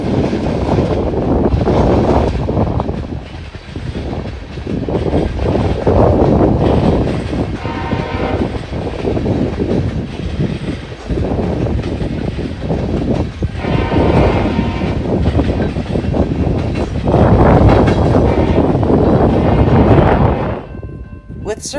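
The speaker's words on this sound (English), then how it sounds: "a very short CSX M565, a daily manifest train that runs between Collinwood Yard and Cleveland, Ohio" A short CSX M565 daily manifest freight train rolls past with loud, continuous rumbling and clanking wheels, and its horn sounds in several blasts. A voice speaks over the passage.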